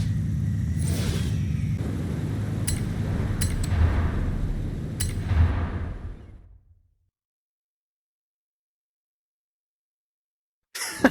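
A Volkswagen Golf GTI engine in the Forza Horizon 5 racing game rumbles and revs loudly and steadily for about six seconds, then cuts out abruptly into silence before a brief final blip.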